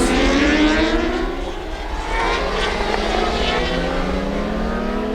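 A pack of Supersport race motorcycles pulls out onto the track at Circuit of the Americas, a loud, dense blend of engines revving and droning together, with pitches rising and falling as the bikes pass.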